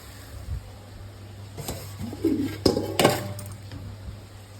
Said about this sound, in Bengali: দিয়ে একটু নেড়ে নেব হালকা করে।